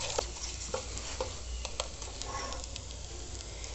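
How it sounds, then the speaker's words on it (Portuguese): Garlic sautéing in a pan with a spoon stirring it, a soft steady sizzle with light scraping taps, close and quiet with no voices. "uma colher de sopa de alho. Vou dar uma refogadinha aqui."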